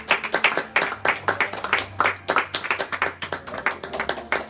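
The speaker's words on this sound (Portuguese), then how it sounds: "vamos aplaudir Jesus." A church audience claps for Jesus at an evening service, a steady burst of applause from a small group, close and fairly loud, with uneven overlapping hand claps that continue throughout.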